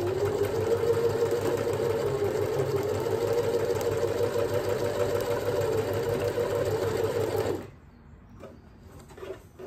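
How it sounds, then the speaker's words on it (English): A sewing machine stitches fabric in a steady, fast mechanical whir for several seconds, then stops, leaving a few soft clicks and handling noises. "run my fabric through the sewing machine and through the overlocker"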